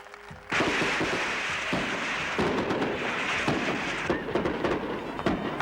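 Fireworks at religious and patriotic celebrations in Spain crackle and pop in a dense, continuous barrage of overlapping bursts, with occasional louder thumps, on an old archival recording.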